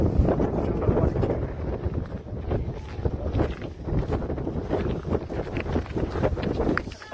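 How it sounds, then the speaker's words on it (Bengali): Strong, gusty wind buffets the microphone high up at the Gulmarg Gondola in Kashmir, a continuous loud roar with rumbling low-end gusts and no clear speech throughout. "প্রচণ্ড হাওয়া দিচ্ছে।"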